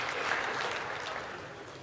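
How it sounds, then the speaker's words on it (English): An audience at a talk on negotiation gives itself a round of applause, a steady, dense wash of clapping throughout. "Thank you for giving yourself a round of applause for doing that."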